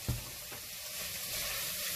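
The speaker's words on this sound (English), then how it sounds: "Now the butter's melted nicely, add about 1 large heaped tablespoon flour" Butter and a heaped tablespoon of flour starting a roux in a pan, a soft, even hiss of sizzling after a brief knock at the start, steady and fairly quiet with no talking.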